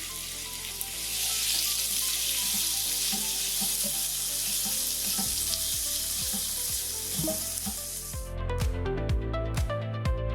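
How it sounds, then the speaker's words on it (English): Sliced apples sizzle loudly and steadily in a hot frying pan while cooking for a vegan wild rice stuffing. Near the end the frying thins out and a few sharp utensil taps and scrapes break through. "Now we're gonna cook the apples in this same pan."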